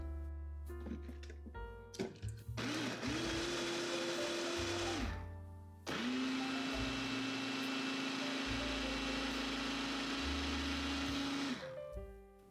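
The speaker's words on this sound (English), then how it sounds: "add the cabbage and carrots to a food processor and pulse" A food processor chopping cabbage and carrots for dumpling filling runs in two steady whirring bursts, the second one longer, with a short pause between them and brief clunks at the start and end, loud and close with no speech.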